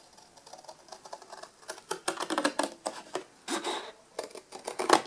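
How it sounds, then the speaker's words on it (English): Scissors roughly cut out a paper template for a Scandinavian Christmas tree ornament, giving close, quiet, irregular snips and paper rustles in short bursts. "Then I just use my scissors"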